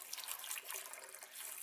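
Water poured into a blender jar at the start of a green smoothie, a short soft splashing trickle that is fairly faint and close.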